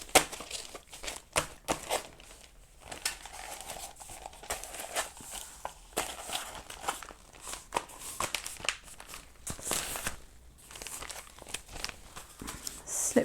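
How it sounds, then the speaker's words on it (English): Papers being folded for a craft challenge entry give off close, crisp crinkles and rustles in uneven bursts with small sharp taps, and no one speaks. "Right, I'm going to fold those up a bit."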